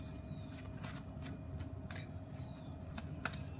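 Oracle cards are shuffled quietly and close up, a soft papery riffle with light rhythmic flicks repeating over a few seconds.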